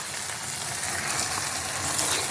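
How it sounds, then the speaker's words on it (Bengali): Water splashes into poppy-seed masala frying in oil for a fish curry, and a steady, close, dense sizzling hiss runs throughout. "আমি এখন জল দিয়ে দেবো।"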